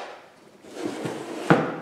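A shop storage drawer of nails and staples slides open or shut in one close, sharp wooden clatter, preceded by quieter rustling and handling noises.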